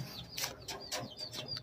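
Pigeons being freed from an enclosure coo and chirp softly, with brief bursts of wing flapping, all faint and close.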